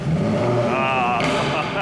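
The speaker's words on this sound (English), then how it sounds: "Oh, a lovely little pop there on the overrun." Jaguar F-Type sports car with large, loud exhausts, revving close by with a throaty rising engine note and crackling pops on the overrun, loud throughout.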